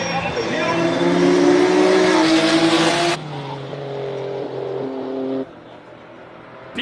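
A BMW E46 328 race car, a normally aspirated six-cylinder rear-wheel-drive machine, roars loudly up a hill climb at a classic car event, engine note shifting through gears and fading as it passes, with a commentator talking over it.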